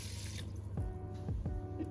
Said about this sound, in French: Et là, maintenant, je rajoute de l'eau.